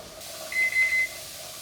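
A kitchen timer beeps in a quick run of three high electronic pulses while a pressure canner of home-grown tomato soup vents steam, with a faint steady hiss underneath and no voices.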